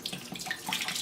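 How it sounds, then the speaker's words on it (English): A gallon of water poured into a container to start a mead batch, a short steady splashing gush heard up close with no talk. "first we have to pour in our gallon of water"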